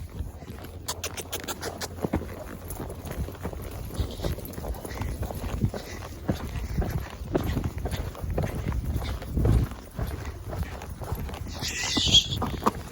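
Horse hooves clip-clop at a steady walking pace on a road near sewer grates, with soft irregular knocks under outdoor background noise.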